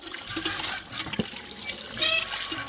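Raw chicken pieces rinsed in water, with a steady wash of running and splashing water and a brighter burst of splashing near the end, close by with no talk.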